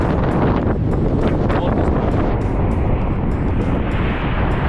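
Strong wind roars steadily across the microphone during a cycling ride at high tide, a loud continuous buffeting rush with no pauses.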